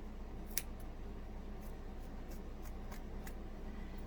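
Curved scissors snip around an embroidered pig-shaped trivet, cutting out the fabric shape in a series of small, quiet clicks and snips over a steady background hiss.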